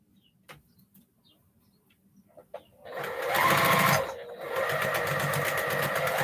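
A sewing machine chain piecing quilt squares, with a few quiet handling clicks and then a loud, rapid mechanical whirr that pauses briefly and starts again.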